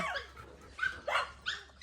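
Pet dogs at feeding time give a few short barks and yips, fairly faint and a little distant, in three brief bursts.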